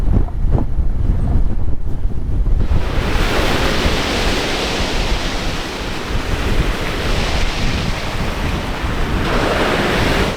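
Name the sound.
waves on a beach in strong wind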